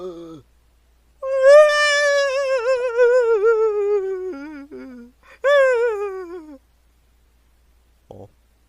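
A cat meows loudly and close, with one long drawn-out meow followed by a shorter second meow and a brief faint chirp near the end. The rest is quiet.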